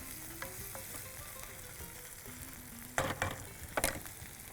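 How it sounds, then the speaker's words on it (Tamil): Onions and tomatoes sautéing in a pan, with a steady low frying sizzle, a few quiet stirring touches, and a pair of louder scraping stirs near the end. "அதையும் போட்டு நல்லா வதக்கணும்."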